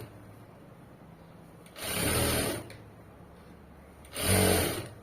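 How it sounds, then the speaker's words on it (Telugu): A sewing machine stitches folded fabric in two short bursts of rapid mechanical whirring, each lasting under a second, close and fairly loud against a quiet hum in the pauses; no speech. "ఇలా నీట్ గా స్టిచ్ చేసుకుంటూ వెళ్ళిపోవాలి"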